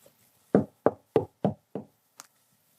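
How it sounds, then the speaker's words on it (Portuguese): Five firm knocks on a door land in an even, unhurried rhythm, close and clear against silence, followed by a small faint tap. "Eis que estou à porta e bato."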